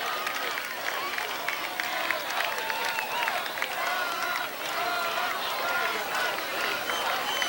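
A very large outdoor crowd of about 60,000 people cheers and claps for President Jimmy Carter's 1979 arrival near the Gateway Arch in St. Louis, a loud and continuous roar of voices and applause lasting several seconds.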